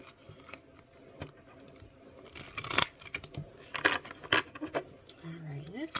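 Cards being shuffled by hand, with papery riffling and flicking bursts in uneven clusters, close and fairly quiet, and a brief voice at the end.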